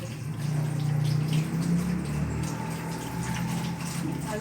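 Tap water runs steadily into a sink as hands are rinsed during a clinical handwashing routine, a soft close splashing with no speech.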